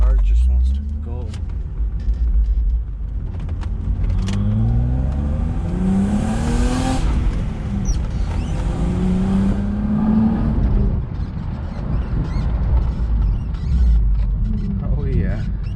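BMW E36 without power steering revving hard as it accelerates, engine tone climbing in rising sweeps, close and loud throughout with road noise.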